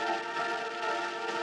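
A rain sample processed with a Chroma scale-snapping effect gives a dense hiss of rainfall woven with steady, pitched tonal bands, heard briefly and evenly.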